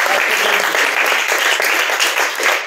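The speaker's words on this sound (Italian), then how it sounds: "un applauso ad Angelo, lo dico con tutto il cuore" Audience at a provincial meeting in Lecce applauds, a dense, loud, sustained wash of clapping hands throughout with no speech over it.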